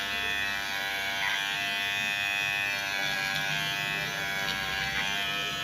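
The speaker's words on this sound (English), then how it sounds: "So the clipper blade is working fine" A cordless hair clipper fitted with a newly replaced blade set runs in a steady, loud, high-pitched electric buzz, close up and unbroken, with no voices.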